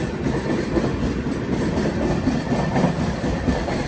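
A train made up of LHB coaches on the line from Visakhapatnam toward Araku, a steady rumble of wheels on rails with soft rhythmic clatter, heard from inside the coach with no talk.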